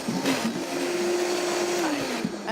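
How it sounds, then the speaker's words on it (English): A kitchen blender purees carrots with chicken broth, a loud, steady motor whir with a slight pitch shift as the mixture churns, running close throughout. "Gonna do the blender."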